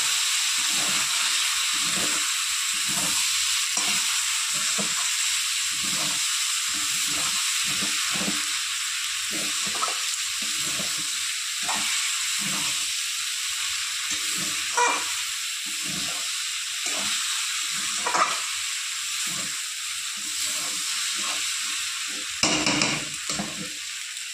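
Winter vegetables fry in a pan with a constant loud sizzle, while a utensil stirs them in a steady rhythm of repeated scrapes, about one every second, for a long stretch.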